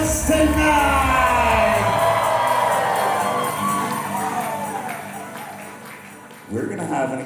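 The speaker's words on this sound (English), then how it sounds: "Can everyone make some noise for the newlyweds tonight?" Wedding reception guests cheer, whoop and yell for the newlyweds, a dense crowd roar that fades gradually before a brief loud burst near the end, with some voices mixed in.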